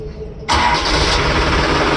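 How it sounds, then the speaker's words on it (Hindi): A loader's diesel engine starting with its gearbox in neutral: a quiet lead-in, then the engine catches abruptly and settles into a loud, steady, close idle rumble. "गाड़ी स्टार्ट हो गया।"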